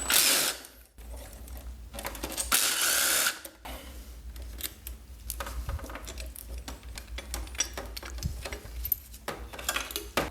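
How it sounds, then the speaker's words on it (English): Bolts being removed from the rectifier of a 2006-2007 GSXR 600/750 motorcycle with a power drill or driver: loud bursts of whirring tool noise come in short runs, broken by pauses and small metallic handling sounds, close and clear with no talking. "I'm simply just gonna remove these 2 bolts before I can remove the rectifier out of the way"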